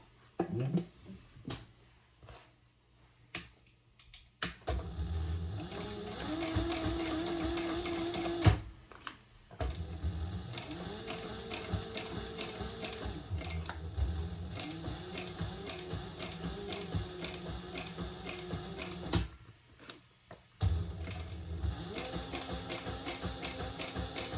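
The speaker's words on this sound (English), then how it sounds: "Now I'm going to top stitch just around the top." A sewing machine runs in long, steady stitching bursts while top stitching around the top of a retro-style sling bag, with brief stops and handling noises between runs.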